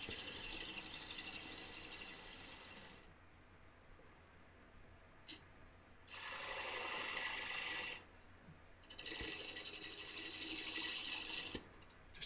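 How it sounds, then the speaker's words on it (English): A spindle detail gouge cuts an oak bowl on a wood lathe: a constant whirring rasp, with two louder scraping passes of about two and three seconds as the tool bites the wood. "I'm going to come in with my spindle detail gouge and work away this little nub"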